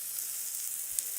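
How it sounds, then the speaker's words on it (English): A single onion sizzling in a hot pan, heard as a steady hiss of frying close up with one faint tick near the end, and no voices. "My lone onion is sizzling."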